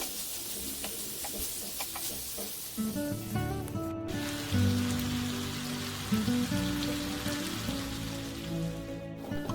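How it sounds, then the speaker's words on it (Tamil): Marinated chicken pieces dropped into hot oil for a pepper chicken roast, a dense crackling sizzle like rain on a surface, with clattering as the pieces go in and a bright steady fry that continues afterward. "எண்ணெய் வந்து சூடானதுமே நம்ம ஊற வச்ச சிக்கன் வந்து இதில் அப்படியே போட்டுடலாம்"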